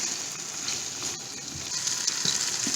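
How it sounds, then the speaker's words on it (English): Mutton dry frying with potato over very high heat in a non-stick pan, giving a steady, close hiss and sizzle with faint stirring crackles and no talk. "I'm actually frying it further, and my heat is very high"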